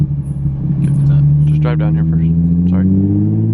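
Steady low droning rumble from a Nissan 350Z in motion with bent brake rotors, with a faint grinding undertone and brief speech over it.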